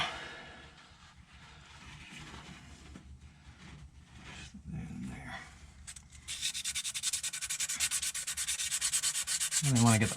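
Abrasive sanding of rust from a part on an International DT466 engine during rear main seal replacement, starting as scattered rubbing and building into a loud, steady, rhythmic grinding near the end, with no talking.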